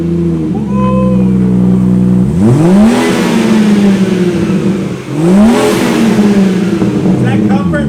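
A BMW 440i with a B58 inline-six and muffler delete starts up and settles into a loud, raspy idle, followed by two sharp throttle blips that rise and fall, up close with voices talking.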